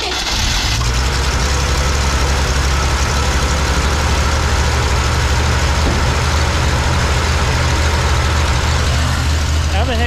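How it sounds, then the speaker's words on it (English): A 1968 Jeep Gladiator engine with a new carburetor catches on its first start and settles into a loud, steady, rumbling idle close by, with speech at times over it. "So here, y'all watch first start with the new carburetor."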